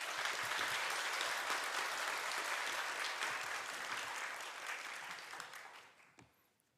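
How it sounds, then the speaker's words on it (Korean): A church congregation applauds to welcome a missionary speaker to the pulpit at a Sunday service, with dense steady clapping that holds and then thins out, fading away over the last second or so. "나오실 때 박수로 환영해 주시길 바랍니다."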